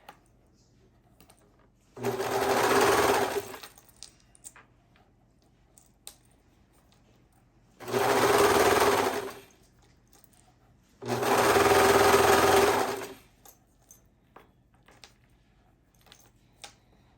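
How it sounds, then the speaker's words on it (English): An overlock serger stitches the neckline of a shirt in three short bursts of rapid mechanical whirring, each under three seconds, with faint clicks and handling noises between them. "When I say a good grip, I'm talking about the serger is gripping it."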